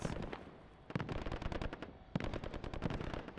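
Video game gunfire in Call of Duty Warzone, with rapid automatic bursts in three clusters separated by short gaps, crisp and fairly quiet overall.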